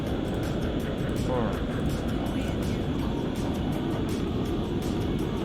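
A fighter plane taking off in a low poly air combat video game, with a loud, steady engine roar and a rumbling drone that fills the whole stretch without letting up.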